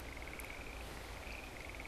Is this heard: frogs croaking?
yes